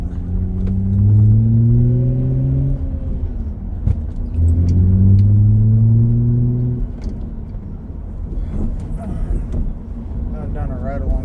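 A Toyota Camry with a V6 and five-speed gearbox pulls away from inside the cabin, engine tone climbing through two rising sweeps with a brief shift pause between, then settling into a steady rumble.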